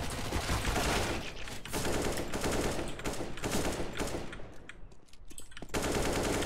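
A decoy grenade in CS:GO mimicking gunfire: continuous loud rattling of rapid automatic shots with a few brief dips, dense and close.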